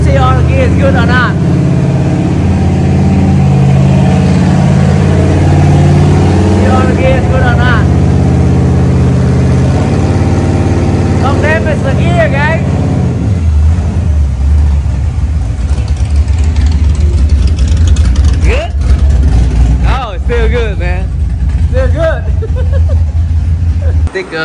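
The V8 of an Oldsmobile Cutlass 442 runs on a dyno, rising and falling through the gears with a loud, steady engine drone, while voices talk and chatter over it.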